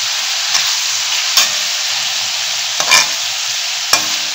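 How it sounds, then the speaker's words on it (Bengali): Unmarinated chicken meat fries in hot oil for a coriander chicken dish, giving a steady close sizzle broken by about five quick scraping stirs of a spatula in the pan. "দেখো মাংসটা তেলের মধ্যে ভাজতে দিয়েছি। এটা একবার আমি নেড়ে দিলাম"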